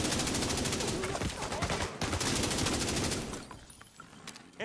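Rapid automatic gunfire in the shooter game The Division 2, a loud, dense burst of repeated shots for about three seconds, then fading to scattered quieter reports.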